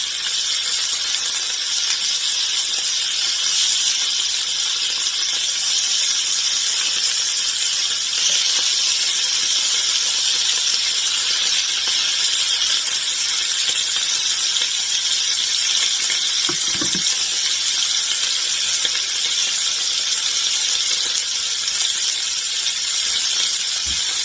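Birria burger patties sear in a hot pan, giving a loud, continuous, close hiss and crackle that holds steady throughout with no pauses.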